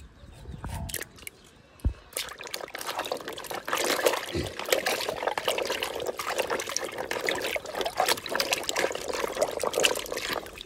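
Turmeric roots being washed by hand in water, with steady sloshing and trickling splashes, a few sharper knocks early, then continuous nearby splashing.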